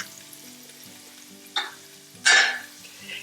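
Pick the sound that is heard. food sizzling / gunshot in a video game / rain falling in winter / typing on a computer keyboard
food sizzling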